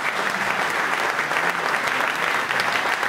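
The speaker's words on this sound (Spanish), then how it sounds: "a mi compañero y amigo Juan Manuel Olmos, para el cual pido un fuerte aplauso." Audience at a political forum in Buenos Aires applauding steadily, a dense continuous wash of clapping heard close and alone.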